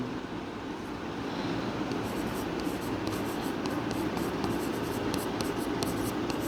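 Chalk or marker scratches steadily on a board during a Class 10 chemistry lesson, as a soft, continuous scraping that grows into a run of short strokes over faint room noise.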